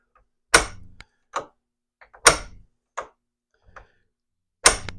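Sharp snapping sparks from a 1951 magneto firing across a spark tester at impulse: three loud cracks about two seconds apart, each trailed by quieter ticks and clicks, heard up close with no talk.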